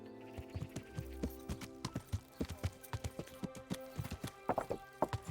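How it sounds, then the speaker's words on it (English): Horse hooves clip-clop in the medieval role-playing game Kingdom Come Deliverance, a steady run of close, crisp strikes on hard ground with a few brief whinnies mixed in and no talk. "Learn how to ride it, a horse, Margaret."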